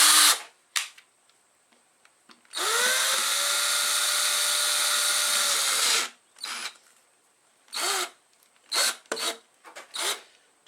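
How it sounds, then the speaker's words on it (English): Power drill slowly turning an engine valve against its seat during a Yamaha Rhino 660 top-end rebuild: short whirring bursts, then a sustained grinding spin of about three and a half seconds, then more brief runs with pauses. "just run the drill slowly, with a little bit of pressure back on the valve"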